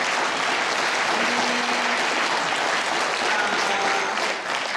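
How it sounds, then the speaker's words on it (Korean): An audience at a Korean art song festival in Seoul claps in a loud, dense, sustained round of applause that fills the hall without a break. "박수 한 번 더 보내주세요."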